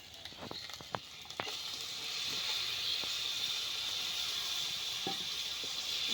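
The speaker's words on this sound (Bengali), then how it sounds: "ভেজে রাখা মাংসগুলো কড়াইতে দিয়ে দিব।" Pre-fried chicken pieces go into a hot wok for chicken curry, a few knocks and clatters at first, then a steady, close broadband sizzling hiss that holds without letup.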